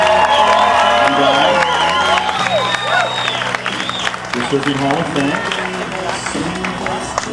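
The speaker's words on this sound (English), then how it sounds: "How about one more round of applause?" A crowd claps and cheers at a 2002 Surfers' Hall of Fame ceremony, lively applause with whoops that slowly fades while someone speaks over it.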